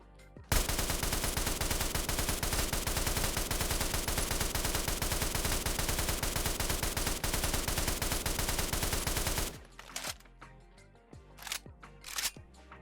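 A suppressed, drum-fed raider gun in a Fallout 4 mod fires one long, fast burst of muffled shots for about nine seconds. After it stops, several sharp mechanical clicks and clacks follow as the drum is reloaded.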